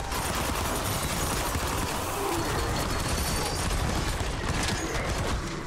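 Rapid, continuous automatic fire from a SIRIN 9mm in a zombies-style video game, a dense unbroken burst of shots running loud throughout with mechanical clatter mixed in.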